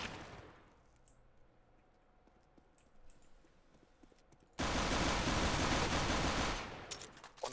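Five-Seven pistol gunfire in Counter-Strike: after a quiet stretch of faint game ambience, a loud, dense burst of rapid shots erupts for about two seconds before cutting off.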